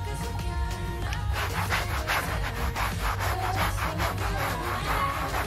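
A towel dampened with rubbing alcohol is rubbed back and forth over a couch to lift ink marks, giving a steady, close scrubbing rustle with no talking.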